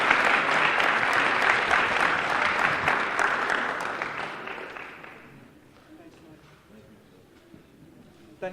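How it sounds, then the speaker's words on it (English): Loud, sustained applause from an awards ceremony audience fills the room for about five seconds, then fades into quieter hall ambience with a few scattered claps. "Thank you for the kind applause."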